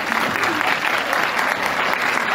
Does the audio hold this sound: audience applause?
yes